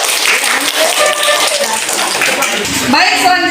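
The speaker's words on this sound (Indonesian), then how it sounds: "kita beri tepuk tangan dulu untuk kelompok 1" A class applauding a student presentation group, a dense steady patter of many hands clapping at once, filling the room for a few seconds with a slight swell near the end.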